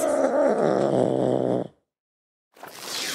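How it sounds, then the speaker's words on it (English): A fox gives a rough, purring, harmonic vocal call lasting about a second and a half, loud and close, then stops. After a pause a separate hissy sound starts. No speech. "F is for fox."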